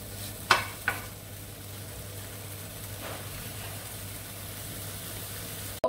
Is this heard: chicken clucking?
no